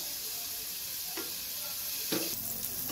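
Paneer cubes with pepper fry quietly in a pan, a soft steady sizzle broken by a couple of brief stirring scrapes.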